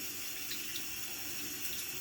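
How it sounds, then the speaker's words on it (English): Steady hiss of water running from a kitchen sink tap while a knife is washed after cutting raw beef for teriyaki, a constant close stream with faint clinks and no talk. "You can hear the water in the background."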